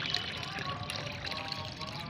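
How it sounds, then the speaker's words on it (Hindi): Homemade liquid fertilizer is poured into plain water as a steady, fairly quiet trickle running without a break, with no talking. "तो अब इसको मैं इस सादा पानी में मिला दूँगी।"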